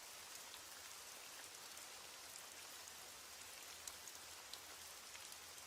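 Steady rain falls through the night as a continuous, even hiss with faint scattered drops, with no voices and no other sounds.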